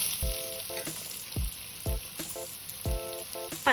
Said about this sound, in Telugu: ఇప్పుడు ఇదే ఆయిల్లో తరిగిన ఉల్లిపాయలు 1 కప్పు